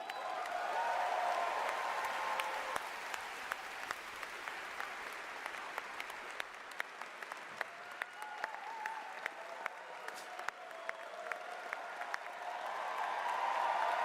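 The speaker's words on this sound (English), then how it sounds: "More applause, give them more." Applause fills the hall at the Game Awards ceremony, a sustained wash of clapping from a large crowd that swells at the start and end and carries on for about fourteen seconds, with scattered sharp claps standing out.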